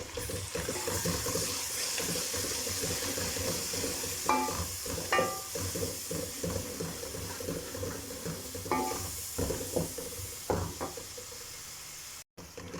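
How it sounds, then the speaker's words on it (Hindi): Onion with garlic-ginger paste sizzles steadily in a pan for kadhi pakora, with intermittent spoon stirring and scraping knocks against the pot throughout. "अब मैं इसके अंदर लहसुन अदरक का पेस्ट शामिल कर दूँगी।"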